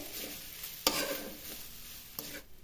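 Grated vegetable is stirred in a pan over a low gas flame, giving soft scraping stirs with a faint sizzle and a couple of sharper spoon knocks, quiet and close.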